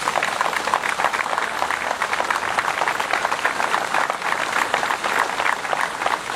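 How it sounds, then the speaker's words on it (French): Steady applause from a festival audience honoring the organizing committee, a dense continuous wash of many hands clapping at moderate loudness, sustained evenly throughout with no voices. "Je voudrais qu'on puisse les applaudir très fort, Alexandre et son équipe qui sont là."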